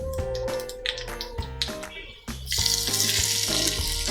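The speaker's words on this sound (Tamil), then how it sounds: "கடுகு ஆட் பண்ணுறேன்" Mustard seeds sputtering in hot coconut oil for a raw turmeric chutney tempering, a burst of crackling and hissing that rises sharply midway, with clinks of a utensil beforehand.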